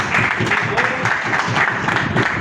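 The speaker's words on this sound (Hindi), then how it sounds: "राष्ट्रीय कार्यकारिणी के लिए भी एकदम जोरदार तालियां होनी चाहिए" Audience applause at a gathering, steady rhythmic clapping from many hands, fairly close and continuous, with some voices mixed in.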